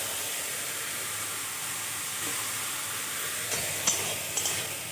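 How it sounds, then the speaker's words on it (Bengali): Fenugreek greens and eggplant with turmeric sizzle in a pan through a steady soft frying hiss, with a few light scrapes and clicks of stirring near the end. "খুব ভালো করে মিশিয়ে নেব"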